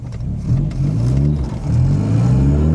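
A car fitted with SU carburettors revs and accelerates in two rising pulls, a steady mid-pitched engine drone climbing close by with no talk over it.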